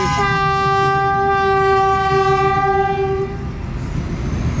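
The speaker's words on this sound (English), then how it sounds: "Big train coming too" A train horn blares with a steady loud tone over the rumble of a passing train, then fades into ongoing rail noise.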